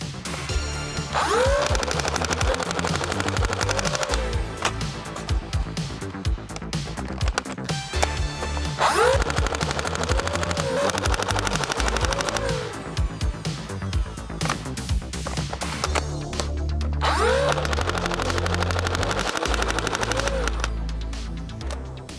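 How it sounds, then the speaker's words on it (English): A modded Nerf Fortnite B-AR blaster running on a 3S LiPo fires full auto in several long bursts of rapid mechanical rattling and motor whine, with darts clattering into cups 30 feet away. "I am shooting cups at 30 feet"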